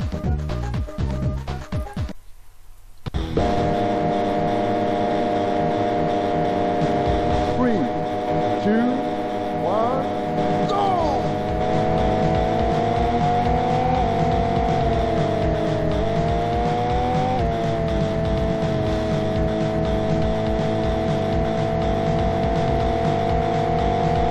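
Race car engine from Unser's Racing, a Mac game running on an Amiga, a continuous high droning whine with pitch shifts and brief tire squeals, steady and loud after a short quiet start.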